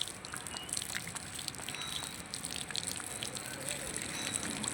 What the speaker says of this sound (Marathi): हा बघा आता पाणी चालू केलंय नेमकंच माझ्या हातात नळी आहे